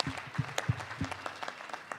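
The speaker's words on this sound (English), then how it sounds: "Now, Randall, give him a round of applause, please." A small audience at a panel discussion on ancient civilizations gives scattered, light clapping: a handful of separate, close hand claps rather than full applause.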